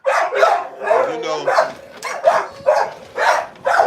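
Dogs kept in cages bark close by in a steady series of about eight sharp, loud barks, with short gaps between each.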